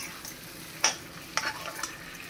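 Chicken kosha cooks in a pan with a soft, continuous sizzle, broken by a couple of sharp clinks and scrapes of a utensil stirring the meat.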